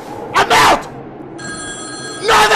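A telephone rings in the Boogeyman video game, a steady electronic ring with tonal harmonics lasting about a second, set between short bursts of loud talk or shouting.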